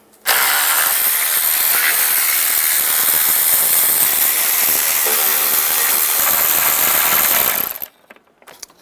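A ratchet fitted with an 8mm socket backs out intake bolts on a 2007-18 Jeep Wrangler. It gives a loud, continuous run of fast clicking close to the listener that stops abruptly near the end, with no voice over it.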